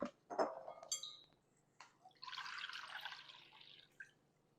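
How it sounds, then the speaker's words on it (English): Coconut water poured into a container, a wet splashing rush lasting about two seconds, preceded by a few faint drips and light clinks, close and fairly quiet. "I'm going to put 2 cups of coconut water in here"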